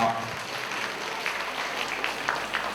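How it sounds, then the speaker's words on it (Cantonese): Applause for prize-winning kindergarten students at a school award ceremony, a dense, steady clapping from a crowd lasting the whole moment. "再次俾掌聲得獎嘅同學"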